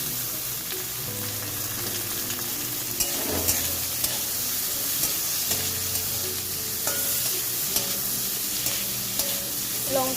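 Potatoes, beans and carrots stir-fried in a pan, a steady close sizzle with scraping spatula strokes and clinks of stirring throughout, no voices.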